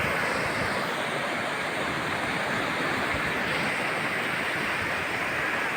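Waves breaking on Kudle Beach at Gokarna, Karnataka, a loud continuous wash of surf roar with wind buffeting the microphone and no voices.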